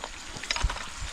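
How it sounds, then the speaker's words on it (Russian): Sausage frying over a campfire on a fishing trip, a short soft sizzle with a few light crackles and pops, close and moderately quiet, with no voices. "колбасочку жарит."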